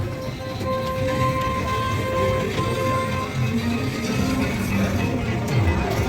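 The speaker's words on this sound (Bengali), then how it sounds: "ঢেউসাগরে আমরা টয় ট্রেনে উঠলাম।" A toy train on tyres runs along the road at Digha beach, giving a continuous engine rumble with a faint tonal whine. The sound stays steady and fairly close throughout.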